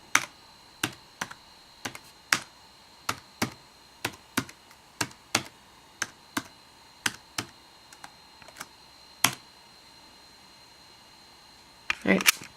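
A password being typed on a Macintosh PowerBook G4 keyboard: a dozen or so crisp, close key taps in an uneven rhythm, a pause, then a quick cluster of clicks at the end.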